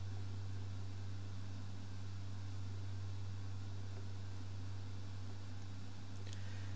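A light aircraft's engine drones in a steady, continuous, loud hum heard from inside the cabin, with wind noise and no pauses, on the approach to the Gibraltar runway in turbulent conditions.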